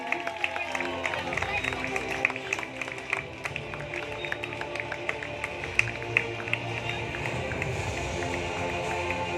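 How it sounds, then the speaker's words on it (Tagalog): A crowd claps and cheers for a company president giving his first speech of 2021, the applause steady and dense throughout with a busy murmur of voices mixed in. "milyong palakpak para kay President Joseph Lim"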